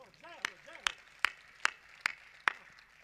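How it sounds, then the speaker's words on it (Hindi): Six sharp, evenly spaced claps ring out at a Hindi poetry recital, each crisp and distinct with short gaps between, while a voice talks underneath. "ताली बजाओ, अच्छी बात कही मैंने।"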